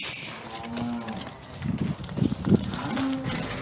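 Heifers in a farm shed low and moo several times, some calls near and others farther off, with rustling and shuffling of the herd between calls.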